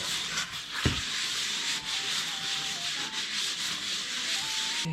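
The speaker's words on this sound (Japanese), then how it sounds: "これを研磨するということで。" A part from a 1987 Honda NSR50 moped engine being lapped on waterproof sandpaper laid over a flat board, a steady close scraping and rubbing that continues without a break, with one brief knock near the start.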